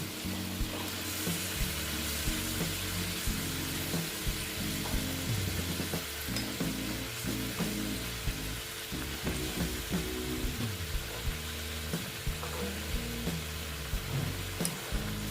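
Tilapia pieces go into a simmering mustard gravy, with a continuous close bubbling sizzle and scattered stirring and clinking sounds.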